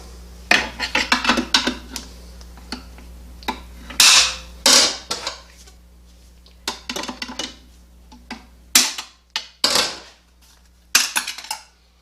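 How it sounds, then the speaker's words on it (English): A long screwdriver works a snap ring out of an automatic transmission during a teardown: intermittent sharp metallic clicks, scrapes and clanks, some in quick clusters and others spaced by brief pauses, close and fairly loud. "We take that snap ring out."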